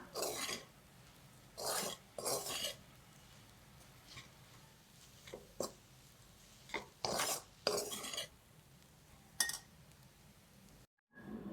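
Moong dal halwa cooking in ghee is stirred in a pan, with intermittent scraping bursts of a spoon against metal, quiet and close, separated by short pauses.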